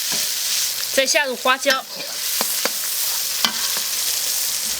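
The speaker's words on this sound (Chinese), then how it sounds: "再就是小米泡椒，这里给它先炒一下，给它爆香。" Pickled chilies stir-fry in a wok with a continuous crackling sizzle and occasional scraping strokes, while someone speaks briefly over the cooking.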